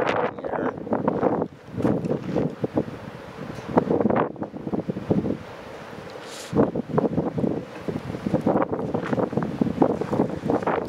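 Strong gusty wind blowing dust and dirt outdoors, buffeting the microphone in loud rumbling bursts with a brief lull partway through.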